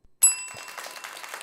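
A bright metallic bell ding strikes once after a brief silence, ringing clearly up front and decaying with a shimmering tail over faint room noise.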